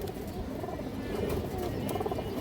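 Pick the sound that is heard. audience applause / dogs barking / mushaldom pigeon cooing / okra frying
mushaldom pigeon cooing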